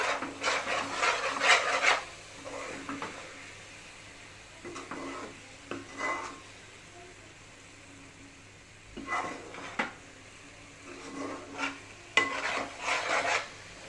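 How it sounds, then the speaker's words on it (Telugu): A spoon rasps and scrapes through a thick coconut and jaggery laddu mixture in a pan, with irregular rubbing strokes that come in short clusters separated by quieter gaps. "ఇప్పుడు ఇలా కలుపుతూనే ఉండాలి."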